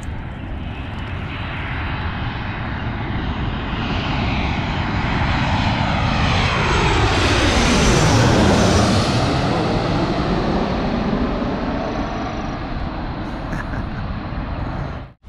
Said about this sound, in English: This is Gravelly Park, where we're out here watching the planes come in.